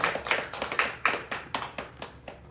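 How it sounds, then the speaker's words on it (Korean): A church congregation gives applause during a worship service, a steady run of evenly spaced, sharp claps that sounds like a few people close by clapping in unison rather than a large crowd. "박수를 드리겠습니다."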